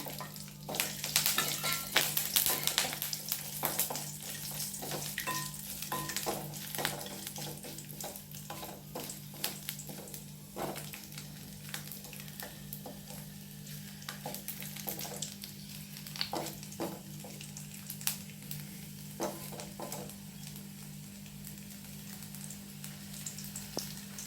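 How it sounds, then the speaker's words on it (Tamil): Garlic and curry leaves with dried chillies sizzle and crackle in hot oil in a pan while being made into a coconut spice powder. The frying is steady and close, with occasional stirring scrapes and no voices. "பூண்டு நல்லா வறுத்துக்கலாம்"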